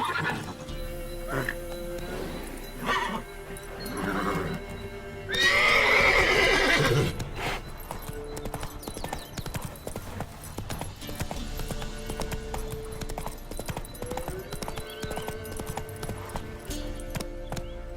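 Roach, a horse in The Witcher 3, gallops with steady clip-clop hoofbeats and lets out a loud, close whinny partway through, over a bed of game music and ambience.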